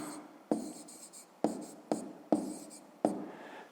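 Pen strokes scratch across paper in short separate bursts, about five quick strokes close by with brief pauses between them, quiet and free of talk.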